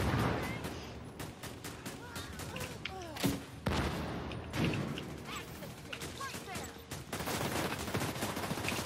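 Rapid bursts of nail gun fire in The Division 2, a dense clatter of repeated shots with sharp impacts, loud and close amid other gunfire and battle noise.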